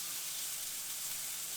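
A sous vide pork chop sears in a hot pan, a steady bright sizzle and hiss running without pause through the short moment, close and even.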